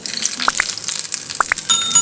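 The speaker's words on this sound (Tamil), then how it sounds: "இந்த சட்னியில் தாளிப்பு சேர்த்துக்கலாங்க." Hot tempering with curry leaves is poured into chutney, giving a short, close burst of hissing sizzle with a few bright drips and clinks.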